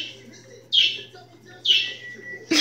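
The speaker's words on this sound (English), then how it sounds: "That's my bird, by the way." A pet bird indoors gives a few bright chirps, about three short bursts spaced roughly a second apart, fairly close and clear over a low steady hum.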